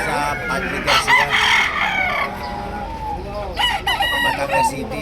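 Several fighting-cock roosters crow in overlapping calls nearby at a gamecock market in Padre Garcia, Batangas, with clucking and a busy crowd of fowl around them.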